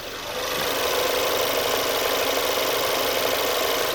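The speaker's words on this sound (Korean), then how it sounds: "자 엔진까지 들어보셨는데요 엔진 상태 너무나 훌륭하고요 정숙함까지 너무나 훌륭했습니다" A 2019 Lincoln MKC facelift SUV with four-wheel drive idles steadily, a smooth, quiet, constant engine hum with a faint fine ticking, heard up close after a short fade-in.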